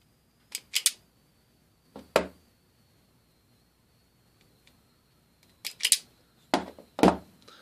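Wire cutters snip through thin data wires on a 5V power supply, giving a handful of sharp, close clicks in small clusters with quiet gaps between.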